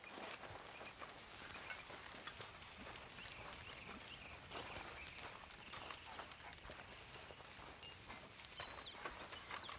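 Horses at a camp in Red Dead Redemption 2 clop and shuffle steadily through the whole stretch, their hoof falls sounding close and fairly loud over a busy outdoor ambience with faint bird calls.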